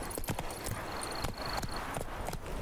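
Roach, the horse in The Witcher 3, galloping with fast, rhythmic hoofbeats, close and steady over a continuous background of game ambience.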